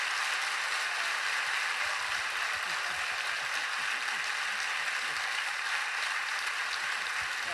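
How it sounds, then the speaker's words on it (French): Steady audience applause fills the space, a dense even wash of clapping from many hands that continues without pause throughout. "encore des applaudissements pour Monsieur Charlie Duke."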